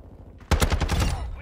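Close, loud burst of ISO Hemlock assault rifle fire in Modern Warfare 2 multiplayer, rapid shots cracking in a steady automatic stream for about a second after a brief quiet start.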